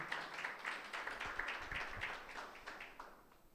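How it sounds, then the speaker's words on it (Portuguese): A church congregation applauds together, a faint, even spread of clapping with some rhythmic accents, fairly distant and without talk over it. "Vamos aplaudir a palavra de Deus."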